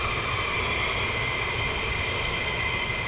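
A military jet departs at RAF Lakenheath, a steady, distant roar of jet engines holding constant throughout with no voices.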